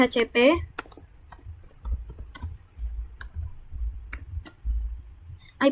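Typing on a computer keyboard while entering network configuration commands: steady close clicking keystrokes in uneven bursts, with a brief voice at the start and a low hum beneath.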